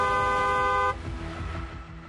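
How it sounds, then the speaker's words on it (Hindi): Vehicle horn blares steadily for about a second, loud and close, then cuts off, leaving road traffic rumble underneath. "हॉर्न बजाएं।"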